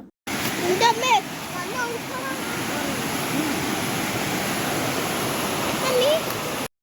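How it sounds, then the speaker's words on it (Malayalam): River water flowing steadily at a Kerala riverside spot, a continuous rushing wash that holds even throughout, with faint voices and a few brief higher calls drifting over it. "വെള്ളം ഒഴുകുന്ന സൗണ്ട് മാത്രമേ ഇപ്പം നമുക്ക് കേൾക്കാൻ പറ്റുള്ളൂ"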